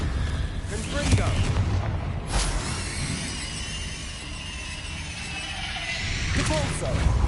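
Confringo fire spell cast in the Hogwarts Legacy video game, repeated booming fiery blasts with sharp cracks amid continuous loud combat noise and background voices.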